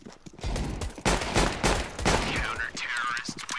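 Rapid bursts of gunfire from the video game Counter-Strike, several loud close volleys in quick succession with a short ringing tail near the end.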